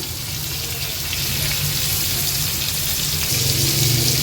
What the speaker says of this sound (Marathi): आता मागची बाजू पण अशीच फ्राय करून घेऊया एक दोन मिनिटासाठी